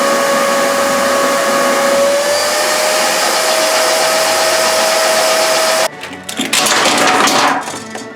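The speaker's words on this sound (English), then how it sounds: "turned on the vacuum, and attempted my first ever pull" Homemade vacuum former's vacuum running loud and steady with a whining hum, then abruptly cutting into crackling, popping plastic sounds as the pull happens.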